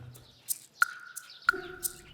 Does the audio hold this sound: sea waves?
no